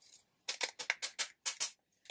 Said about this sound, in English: cut the top of this with these scissors